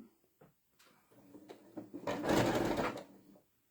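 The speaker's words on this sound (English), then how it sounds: "I'm going to sew right up to the pin, but not over it." A sewing machine stitches fabric up to a pin: a few faint clicks, then a short rising whir of stitching that swells and stops, close and quiet.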